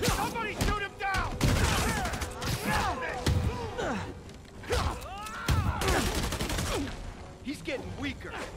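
Rapid gunfire bursts from the video game Marvel's Spider-Man Remastered crackle in repeated volleys with thuds, while voices talk over the action throughout.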